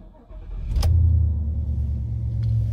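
A Ford Ranger PX2 engine, the same motor as a Mustang's, is started and settles into a steady, close low rumble, with a short burst of noise at the turnover and the idle carrying on alone to the end.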